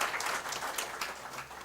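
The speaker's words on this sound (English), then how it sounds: "So a great round of applause for all the participants and dignitaries." Brief burst of audience applause for participants and dignitaries at a defence and space technology session, steady dense clapping from a crowd, fairly close and even throughout.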